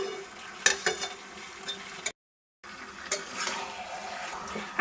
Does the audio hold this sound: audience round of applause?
no